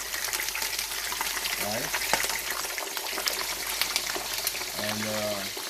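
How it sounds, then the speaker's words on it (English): Seasoned fish frying in oil in a pan, a steady low crackling sizzle with faint clinks of a basting spoon, while a voice speaks briefly over it. "So I'm just gonna go ahead and fry this"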